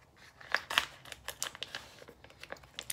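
Scissors cut open a food package in a home kitchen, giving a string of close, sharp snips and crinkly plastic rustles in irregular bursts, with no talking.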